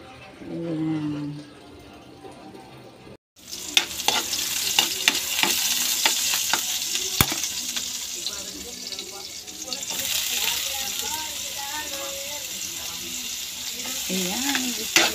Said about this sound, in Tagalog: gisa-gisa na tayo ng bawang, sibuyas, luya muna pala